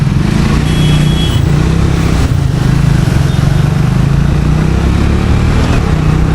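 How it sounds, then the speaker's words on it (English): A Triumph Speed T4 motorcycle engine drones steadily at high revs while riding past 100, loud and close with wind rush, pitch holding then stepping slightly as it accelerates. "the bike is going past 100 pretty quickly"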